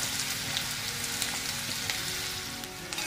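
Sliced onion hissing in oil in a pan for Maharashtrian-style tomato chutney: a continuous close sizzle with fine popping, fairly even throughout, with a few small knocks near the end and no talking.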